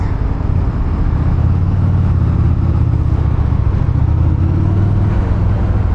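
Steady, loud low engine drone from a Honda Shadow Phantom 750 motorcycle out on a ride, holding a constant rumble with slight throttle swells throughout and no voices over it.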